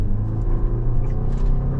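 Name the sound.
2026 Toyota RAV4 PHEV GR Sport accelerating 0 to 60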